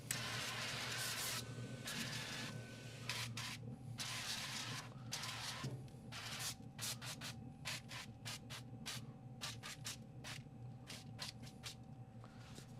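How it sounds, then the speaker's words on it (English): A spray can of avocado oil hisses in short bursts over chicken on a barbecue: a few longer sprays, then a quick series of brief spritzes over faint background hum. "Je vais maintenant utiliser mon huile d'avocat en spray."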